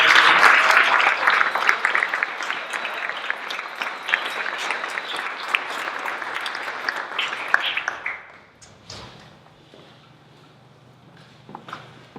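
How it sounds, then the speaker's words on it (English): Audience applause at a 2017 Eagle court of honor ceremony, loud dense clapping for about eight seconds before dying away to a quiet room with scattered faint sounds. "Let's give them one more round of applause."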